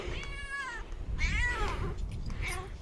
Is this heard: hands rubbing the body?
no